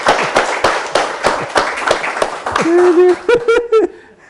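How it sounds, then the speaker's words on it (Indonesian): An audience at a discussion claps in a brisk, fairly regular patter for a couple of seconds, then the clapping gives way to laughter and voices near the end. "Jadi kita tepuk tangan buat Mas Yudi ya."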